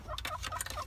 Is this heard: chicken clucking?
yes